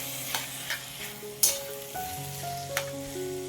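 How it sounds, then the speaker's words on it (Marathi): Finely chopped tomatoes tipped into sizzling spice mix for a quick tomato chutney, a steady close frying hiss with a few sharp spatters and clicks scattered over a few seconds, no voices. "आपण इथे बारीक चिरलेले टोमॅटो घालून घ्यायचे"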